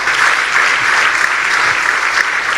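A congregation claps for Jesus during a French and English church service, loud sustained applause from many hands filling the space evenly with no pause.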